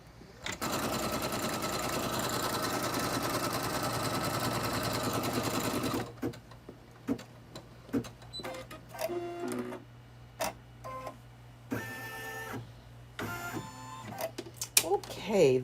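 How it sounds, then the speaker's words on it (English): Embroidery machine stitching diagonal quilting lines on a beginner's wall hanging runs as a steady, loud mechanical whir with a fast rhythmic chatter for about six seconds, then stops, leaving scattered clicks and handling sounds. "I'm going to hit go, and it's going to do 4 minutes worth of that diagonal stitching"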